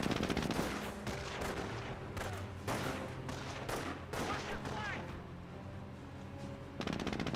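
Video game gunfire from Company of Heroes, the WWII strategy game: rapid bursts of machine-gun and rifle shots crackle in dense volleys, with sharper clusters at the start and end and a faint voice in the background.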